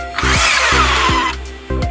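An electric drill whines loudly in one sustained burst, with short clicks and bumps before and after as the trigger is pressed.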